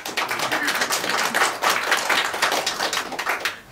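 A conference audience claps steadily throughout, a dense, sustained wash of many hands applauding with no voices over it.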